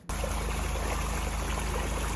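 Water trickles and streams steadily into a flooded basement during a renovation, a close, continuous rushing flow with no voices.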